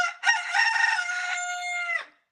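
A rooster gives one loud, close cock-a-doodle-doo crow that rises, holds for about two seconds and trails off into silence.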